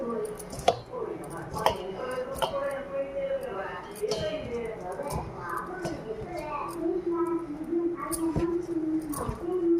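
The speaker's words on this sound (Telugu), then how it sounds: "కలుపుకున్నాక మొత్తం కలిసినట్టు కలుపుకోవాలండి." Pearl millet sweet dough is mixed by hand with salt, giving soft, wet squishing and light clinks against a bowl under steady talking.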